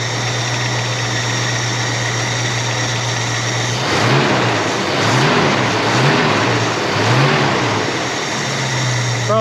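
A 1966 Ford Mustang's 289 V8 with a leaking carburetor accelerator pump idles steadily, then blips the throttle in several quick revs before settling back to idle, loud and close.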